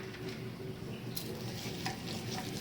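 Semolina idli batter is stirred as water goes in little by little, making a quiet, steady, wet scraping and swishing with a few soft clinks against the bowl.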